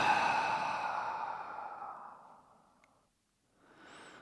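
One long, breathy exhale through an open mouth during a yoga and meditation session, close and soft, fading over about three seconds, followed by a short faint breath after a pause.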